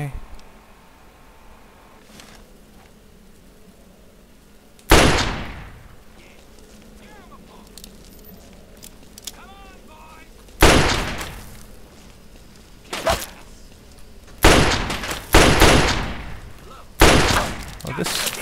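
Assault rifle bursts in Fallout 3 crack out in several loud, sharp volleys separated by quiet stretches, each burst decaying quickly, with a player talking quietly between the shots.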